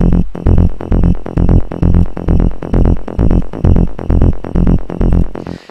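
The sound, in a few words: synth mid bass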